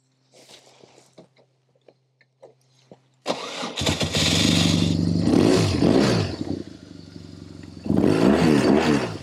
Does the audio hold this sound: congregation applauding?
no